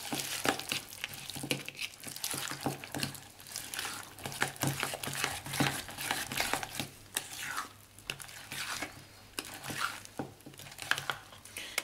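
Pastry cream being mixed in a bowl: a continuous wet, sticky stirring and slapping with frequent soft squelches, close and fairly steady throughout.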